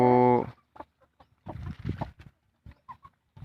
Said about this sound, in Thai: ไก่แม่พันธุ์มีอยู่นี่สิบแม่